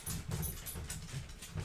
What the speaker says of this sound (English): Alright, I'm gonna let this dog in because she's losing her mind.